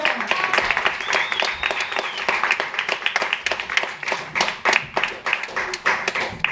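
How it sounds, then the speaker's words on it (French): An audience claps for a comedian during a lively evening show, with individual hand claps standing out in an uneven, moderately loud patter that rises and thins over several seconds. "On applaudit, Vincent."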